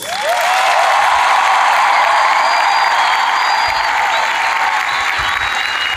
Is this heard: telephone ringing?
no